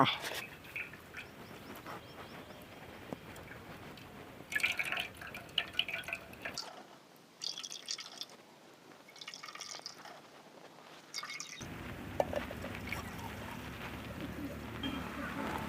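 Coconut milk squeezed by hand from grated coconut for a fenugreek porridge, dripping and trickling in short wet bursts at close range, with quieter pauses between squeezes.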